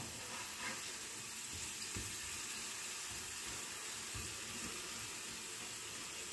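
Potato fingers semi deep frying in hot oil over a medium flame, giving a steady, close, continuous sizzle and hiss throughout with no talking.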